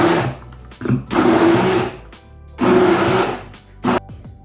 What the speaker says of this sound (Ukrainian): І тепер беру погружний блендер